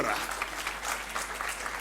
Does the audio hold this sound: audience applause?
yes